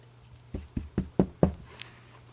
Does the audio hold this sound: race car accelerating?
no